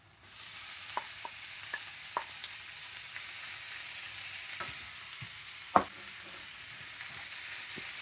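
Meat frying with onions in a pan makes a steady close sizzle, with a few sharp clicks and scrapes of stirring and one louder knock, and no talking.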